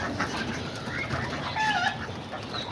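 Homing pigeons flap their wings as they fly in to a feed bucket, a soft continuous fluttering and shuffling at close range with no talk.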